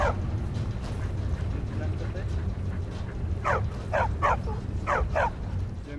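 Dog in Skyrim giving a run of short barks and yips in the second half, over a steady low game rumble and background hum.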